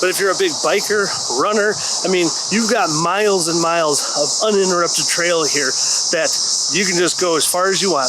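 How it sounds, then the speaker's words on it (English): A constant high, shrill cicada buzz on a summer day in Littleton, Colorado fills the background while someone talks continuously over it. "Man, listen to those cicadas right now."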